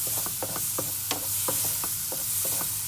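A spoon stirs cinnamon into mashed apples in a pan, giving a run of soft, irregular scraping and squishing taps over a steady sizzle, close and fairly loud with no talk.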